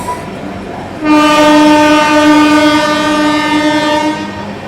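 Horn of the 12559 Shiv Ganga Superfast Express, Banaras to New Delhi, blares as the train runs. A single long, loud tonal blast lasts about three seconds over the rumble of the moving carriages.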